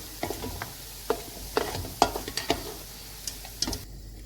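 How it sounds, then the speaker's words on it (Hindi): Soft background sizzle of onions in hot oil for beef biryani, punctuated by scattered spatula taps and scrapes, fairly quiet and close. "ऑयल गर्म हो गया है, अब हम प्याज डाल देते हैं।"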